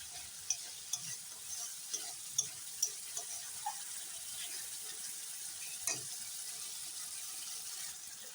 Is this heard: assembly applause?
no